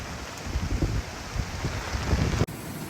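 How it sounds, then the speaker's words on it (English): Heavy rain pours down steadily at a camp on Fraser Island, a dense, loud roar of drops with wind buffeting the microphone and no voices, ending with a brief click. "it's a bit hard to film because it's pouring rain"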